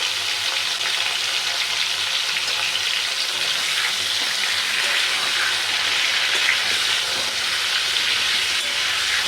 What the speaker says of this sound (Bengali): পটলটাকে লাল লাল করে ভেজে নেব।